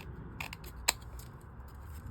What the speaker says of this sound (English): just use a pair of scissors and undercut to trim that away